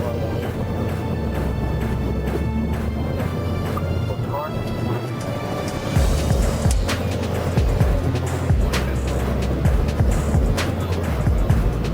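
A Toyota Yaris speeds away from police in a chase, with a loud, steady engine and road roar and sharp thumps and bumps, while people talk over the noise.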